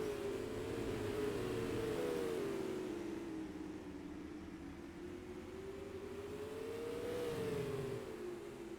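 Race car engines at Star Speedway in a SUPRS super late model race, a loud, steady roar with pitch rising and falling as the cars lap the track, no talk over it.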